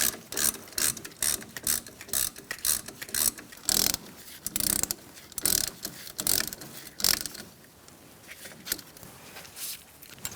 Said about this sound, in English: We're going to tighten these up and then torque them to 20 foot-pounds.